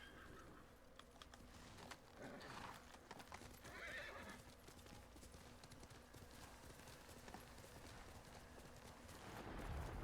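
Hooves clip-clop steadily while a horse whinnies a couple of times in the video game Ghost of Tsushima, all fairly faint, with no one speaking.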